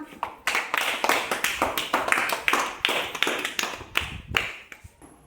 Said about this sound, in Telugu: వెరీ గుడ్ క్లాప్స్ మా